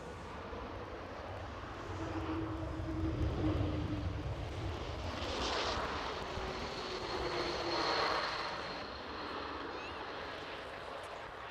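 A KLM Embraer E195-E2 jet from Amsterdam at Edinburgh Airport rumbles at a distance, its broad engine roar swelling and easing twice over the span, with faint tonal whine on top.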